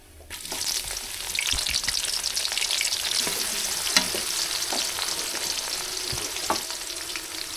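Chopped onions and a little garam masala fry in hot oil on a stove, giving a steady, close sizzle with crackling pops throughout and no talking.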